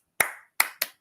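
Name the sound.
hand clap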